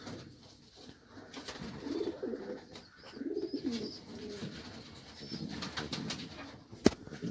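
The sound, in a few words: pigeon cooing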